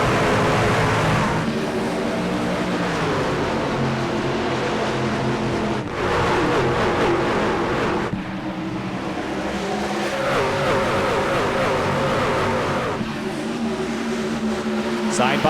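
Race trucks accelerate together at Dover after the green flag, engines roaring loud and continuous as the field revs up and pulls away, with a commentator talking over the noise.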